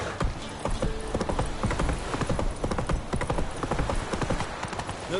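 Roach the horse's hooves clip-clop in quick, steady rhythm across ground in The Witcher 3, loud and close, with faint game sounds mixed in.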